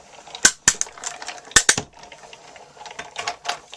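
A Big Shot die-cutting machine cranked by hand as plates pass through, several sharp mechanical clicks and ratcheting clacks in uneven bursts, close and fairly loud with no voices.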